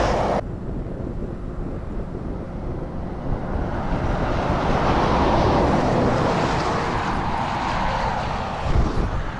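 Heavy semi-trucks pull away along a road in a marshy area of Novosibirsk Oblast, making a loud, steady roar that swells gradually and holds, with broad rushing noise like wind over the engines.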